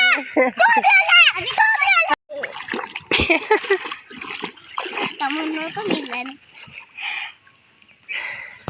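Water splashes in bursts as people bathe at the seaside, under children's and adults' chatter and laughter.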